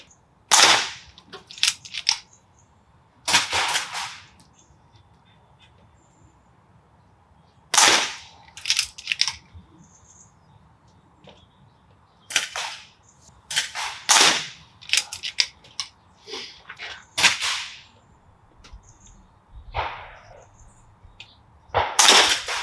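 Reximex Mito air pistol firing at tin can targets: about a dozen sharp, close cracks in irregular bursts, some in quick pairs, with short metallic pings and quiet gaps between them.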